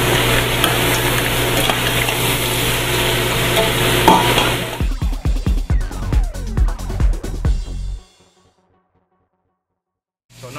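Vegetables sautéing in a pan for a Dungeness crab coulis: steady close sizzling for several seconds, then a run of sharp stirring clatters and scrapes of a utensil against the pan before the sound cuts to silence.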